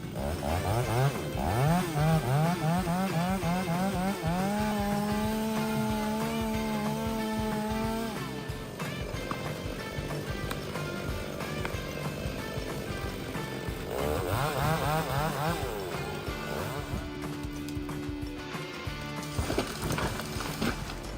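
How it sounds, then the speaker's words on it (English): A chainsaw with a large guide bar roars through giant tree trunks, its engine pitch rising and falling as it revs and bogs into the wood, loud and continuous throughout. "With its large guide bar, it easily cuts through giant tree trunks."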